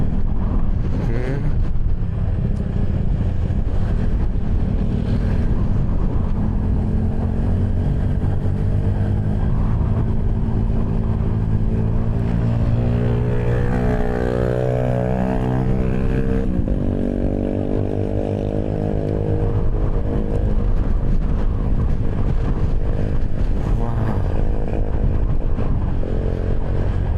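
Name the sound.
strong wind blowing on a motorcycle ride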